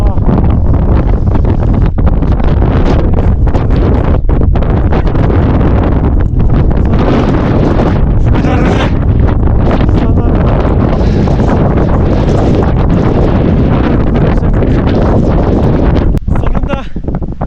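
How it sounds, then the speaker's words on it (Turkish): Strong wind at about 5000 metres altitude in a blizzard near Vichaycocha, Peru, roars steadily into the microphone throughout, a dense buffeting rumble with gusty surges and no quiet gaps. "bayağı şiddetli rüzgar var."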